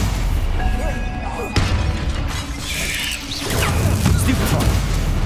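Spell blasts from the Hogwarts Legacy video game: loud booming, shattering bursts in a busy mix of combat effects, with a short gap of quieter sound near the middle.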